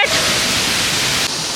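A waterfall in a cave in Bali roars as a dense, continuous rushing wash of water, loud and unbroken from start to finish with no voices.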